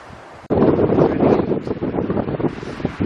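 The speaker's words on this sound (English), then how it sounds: "It's getting windy." Strong wind buffets the microphone, starting abruptly and roaring in loud, uneven gusts, on a walking trail near Creswell.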